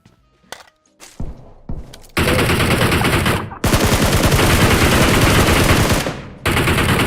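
Rapid bursts of automatic gunfire from a PUBG Mobile match, loud and close, with sustained sprays broken by short gaps and a few scattered single shots at the start.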